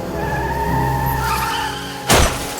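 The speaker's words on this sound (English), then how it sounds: "Suddenly, his car hits a tree." A car on a dark night skids and crashes into a tree: a steady engine and tyre rush builds for about two seconds, then ends in a sudden loud, sharp impact burst.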